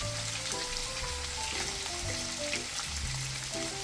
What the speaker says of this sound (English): Add the whole spices and onion, about 8 sliced onion for 2 kg of Nihari mutton